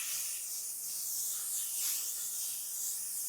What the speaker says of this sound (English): We're gonna use the L'Oreal Infallible Setting Spray.